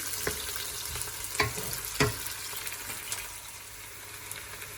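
Onion sizzles in a pan for stir fry noodles, a steady close frying crackle with a few sharp spatula knocks and clatters.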